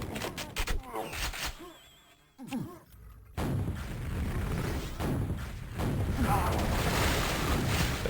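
Rocket launcher fire and explosions in a Quakeworld 4on4 match, dense booming blasts and gunfire filling the mix, loudest in the second half, with a voice briefly heard early on.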